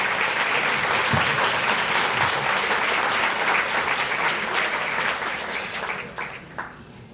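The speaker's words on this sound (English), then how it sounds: "Please give Beth a round of applause." An audience at an annual community charity meeting applauds for an honoree, dense steady clapping from a large crowd that carries on for several seconds before tapering off near the end.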